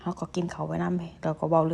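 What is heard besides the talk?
None of the usual background noises is heard.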